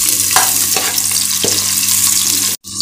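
Large onions sizzle loudly in hot oil with browned chana dal for rava kichadi, while a spoon scrapes and stirs the pan a few times.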